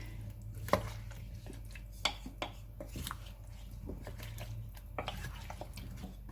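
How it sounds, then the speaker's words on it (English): Chicken coconut curry with coconut rice being stirred together in a pot, a faint wet scraping with soft clinks of the spoon against the side, scattered and irregular in a quiet room. "Now you just want to carefully sort of stir that all together"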